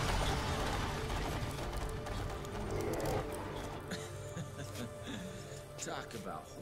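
A mechanical chariot in the action game Devil May Cry 3 grinds and rattles with ratcheting gear clicks and low rumbling, followed by sharp metallic knocks, while a voice speaks over it.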